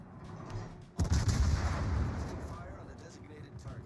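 Warship main guns firing in World of Warships: a sudden heavy volley of booms followed by a rolling, fading rumble of naval gunfire, loud and close.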